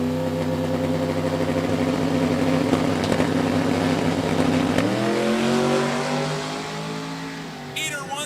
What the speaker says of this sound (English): Here comes Tina Pierce, the big block twin, 1966 Chevy Nova.